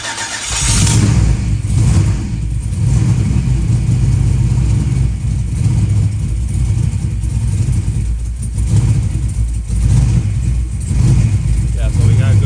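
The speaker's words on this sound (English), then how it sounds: "I'm gonna go ahead and crank the engine up" Forged-bottom-end LS V8 running on EFI fires up and keeps rumbling loudly up close, with repeated throttle blips swelling the low growl as it struggles to hold an idle, someone talking over it at times.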